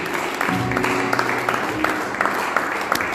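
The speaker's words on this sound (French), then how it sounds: "Applaudissez pour Jésus." A church congregation applauds in praise of Jesus at a New Year service, a steady wash of clapping hands that holds evenly from near and far across the room.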